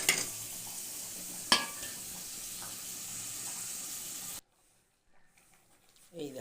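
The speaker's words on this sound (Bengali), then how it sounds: "এবার আমি ডালটা দিয়ে দেবো। ডালটা দিয়ে ভালো করে নেড়ে নেবো।" Lentils stirred into fried onions in a pan, a continuous sizzle with scraping stirs and one sharp clatter, breaking off suddenly into near silence and a few faint knocks at the end.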